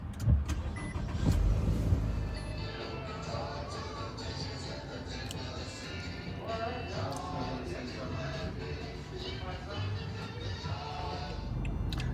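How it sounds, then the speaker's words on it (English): Car driving along a road, with steady engine and road noise filling the cabin throughout. A louder bump comes near the start, and muffled voices or radio talk sit faintly underneath. "All right, I gotta drive."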